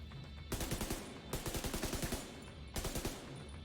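Three bursts of rapid automatic gunfire in The Division 2, close and loud, each a tight run of sharp shots separated by brief pauses, with a faint ambient hum between them.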